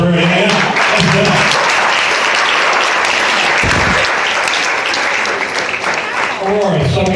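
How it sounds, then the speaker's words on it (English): A hypnotist show audience gives a round of applause, a loud, dense burst of clapping with a voice talking over it at the start and again near the end. "nice round of applause for her"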